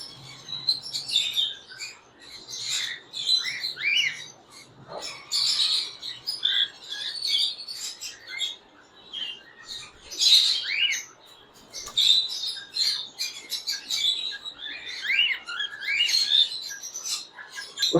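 Pet breeder pair of birds chirping, with busy, bright, overlapping chirps and tweets in irregular bursts, fairly close and lively, with no talk.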